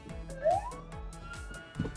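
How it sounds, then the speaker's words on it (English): A toy fire truck at a children's museum sounds a fairly quiet electronic siren, with a rising wail sweeping up and repeating over soft background noise. "Do you hear the siren?"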